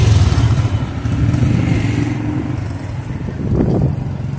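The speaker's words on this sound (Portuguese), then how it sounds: "As motos do Chico, todo mundo acelerando e indo-se embora" Nearby motorcycle engines rev and pull away from an open-air market in Desterro, Paraíba, the throaty roar shifting in pitch and swelling again near the end.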